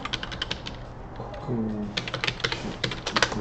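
Close keyboard typing in short bursts of clicky keystrokes, pausing briefly midway while a faint hum or voice sits underneath.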